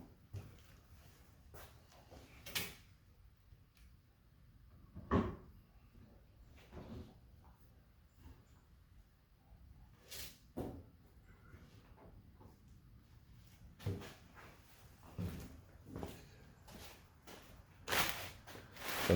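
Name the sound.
glass door being set onto New Holland LX865 skid steer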